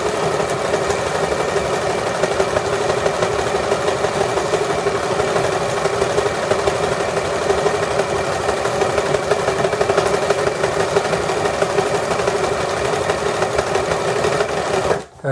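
A sewing machine runs steadily, its motor humming and needle clattering in a fast, even rhythm for a long stretch before stopping abruptly.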